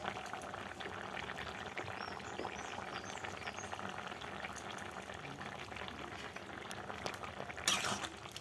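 Soybean curry with garam masala and a little sugar, no onion or garlic, simmering in a pot, giving a steady bubbling, gurgling hiss that runs evenly throughout, with a brief louder splash near the end.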